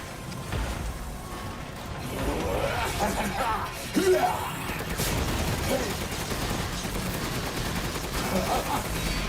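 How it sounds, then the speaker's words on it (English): Rapid video game gunfire in Resident Evil Village, dense overlapping bursts of shots sustained throughout, mixed with game voices and shouting. "Keep shooting!"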